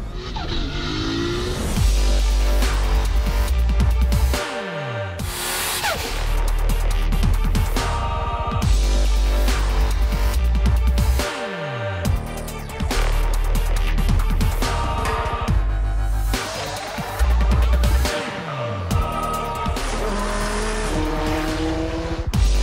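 A Toyota GR Yaris is driven hard, its engine revving up and dropping back through repeated gear changes, with tire squeal and skidding between the loud, close bursts of acceleration.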